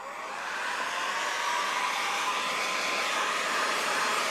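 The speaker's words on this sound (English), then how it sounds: "And then go back with that heat gun." A heat gun blows a steady, loud, close airy roar while warming a single-piece grill inlay on a 2018-2023 Jeep, rising briefly at the start and then holding constant without talk.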